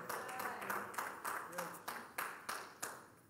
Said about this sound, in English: some of you are clapping